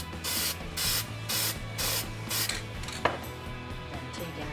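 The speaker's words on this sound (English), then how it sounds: "I'm going to do a quick wipe off technique using spray paint." Spray paint on a handmade wooden bingo piece comes out as a series of short hissing bursts, about six close, even spurts in a steady rhythm, with a small clink near the end and no talking.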